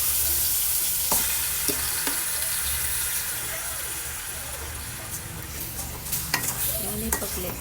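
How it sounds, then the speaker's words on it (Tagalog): Pork with garlic and onion sizzles in a pan while being stirred, a steady close frying hiss broken by scraping stir strokes at irregular intervals. "pag-mix lang natin hanggang sa mag-absorb yung bawang sibuyas sa ating pork para mabango"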